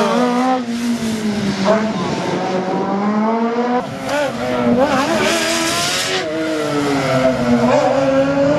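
Loud race car engine at a slalom race in Saint-Lô, with a Fouillot car revving and shifting steadily up and down under continuous high-pitched engine drone, accompanied by a commentator speaking over it.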